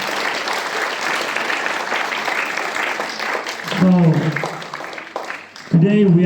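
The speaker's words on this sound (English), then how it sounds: "Give you a big round of applause, everyone." An audience applauds at a school prize ceremony for a story writing competition, a dense steady clapping that fades near the end before a voice takes over.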